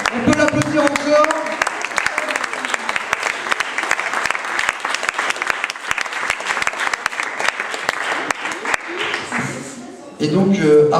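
A slam poetry tournament audience applauds a poet with sustained, dense clapping that runs loud for about ten seconds before it thins and voices come in near the end.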